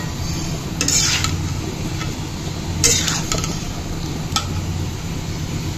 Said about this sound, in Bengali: এখন এই কাঁচা কলাগুলো আরো সুন্দর করে কষিয়ে নিব